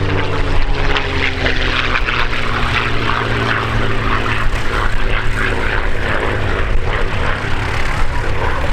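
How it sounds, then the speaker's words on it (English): A P-51D Mustang, the Jersey Jerk, with its V12 Merlin engine approaches to land at the RAF Cosford airshow, its loud, close propeller drone steady and unbroken throughout. "Mustang is making its approach to land."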